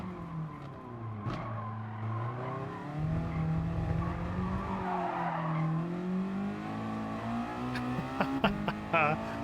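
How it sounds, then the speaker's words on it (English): Car engine droning steadily with drawn-out tire screeching in the Gran Turismo Sport racing video game, a continuous hum with rising skids and a few sharp clicks near the end. "just car sounds and tire screeching"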